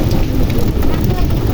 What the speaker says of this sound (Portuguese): Passando uma chuvinha fina aqui agora para refrescar.